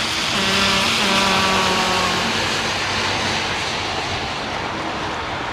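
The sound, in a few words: Boeing 777 taxiing to park at Heathrow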